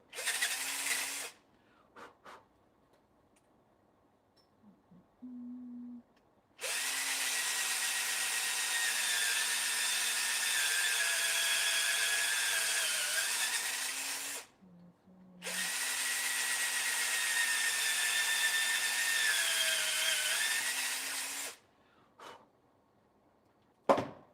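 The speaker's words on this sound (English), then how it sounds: "I have drilled through a plate before" A power drill boring through a metal skate plate in long sustained runs with a high whine, stopping and restarting twice, with brief clicks and handling noises between bursts.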